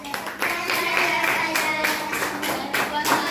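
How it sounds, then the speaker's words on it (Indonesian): A classroom of fourth graders claps for group 3, a steady burst of clapping of moderate loudness that lasts about three seconds without a break. "berikan aplaus untuk kelompok 3"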